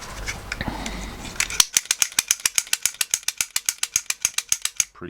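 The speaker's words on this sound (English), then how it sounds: "Now I need to get them open, so I'll just give it a quick pick." A lock pick gun snaps against a 570 lock cylinder in a fast, even series of sharp mechanical clacks, about two dozen close, loud strikes following a brief rustle of handling.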